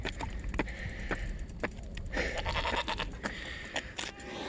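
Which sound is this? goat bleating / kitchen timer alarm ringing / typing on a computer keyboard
goat bleating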